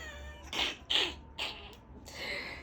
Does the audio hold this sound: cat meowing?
yes